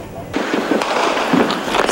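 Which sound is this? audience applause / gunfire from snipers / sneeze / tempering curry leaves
gunfire from snipers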